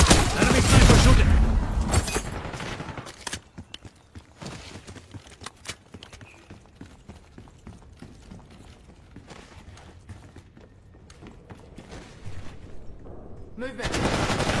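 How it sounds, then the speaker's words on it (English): Enemy sniper fire and other gunshots ring out in a Call of Duty Black Ops 6 multiplayer match, a loud burst at the start followed by scattered sharp cracks and distant shots under game noise, with a voice speaking. "Enemy sniper shooting."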